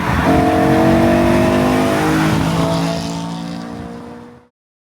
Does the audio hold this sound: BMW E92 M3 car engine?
yes